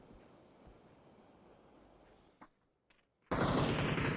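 Gunshots in the PUBG battle royale video game: a few faint distant pops over a quiet ambient bed, then a sudden loud, sustained burst of close gunfire that fills the end.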